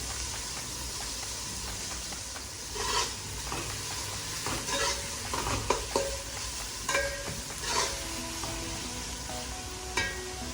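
Chopped onions sautéing in a pan with salt while cooking egg biryani, a steady soft sizzle with repeated scraping stirs of a spatula scattered throughout, close and alone with no talk.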